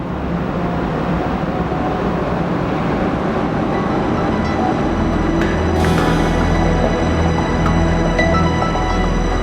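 A passenger train in Austria rolls along the rails toward the Alps and Tyrol: a loud, steady, close rumble with a deep low drone and faint higher squeals, with no voices.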